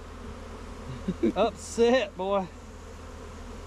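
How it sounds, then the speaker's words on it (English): Angry honeybees buzz close around a GoPro camera, a steady near hum with sharper buzzing bursts as they pass the lens, while someone speaks briefly over them. "I got bees on the GoPro."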